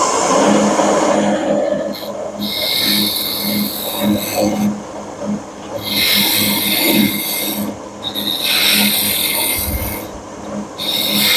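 A woodturning tool rasps against a bead on a spinning lathe workpiece, loud scraping bursts repeating every couple of seconds with short gaps between passes.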